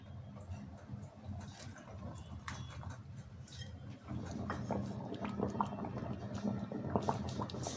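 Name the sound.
mung dal boiling in pot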